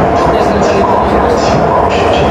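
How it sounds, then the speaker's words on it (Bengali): An underground metro train running in China, a loud close rumble with rhythmic rolling clatter and hiss, heard from inside the moving carriage with voices faintly mixed in. "পাতাল ট্রেন দিয়ে কীভাবে চলাফেরা করতেছি দেখতে পাচ্ছেন"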